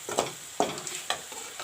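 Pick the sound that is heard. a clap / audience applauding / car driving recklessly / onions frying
onions frying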